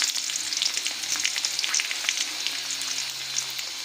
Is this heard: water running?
no